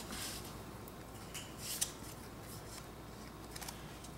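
Scissors snip through paper for handmade card making with washi tape, a quiet close cutting sound with a soft swish and a brief sharp snip near the middle.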